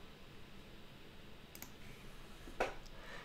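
Computer mouse clicking at a desk: a couple of faint, isolated sharp clicks, the clearer one near the end, over quiet room hiss with no speech.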